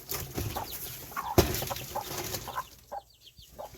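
A mother hen near her week-and-a-half-old chicks, giving soft, low clucks scattered over a few seconds with a sharp rustle or flap in the middle, close and fairly quiet with no talking.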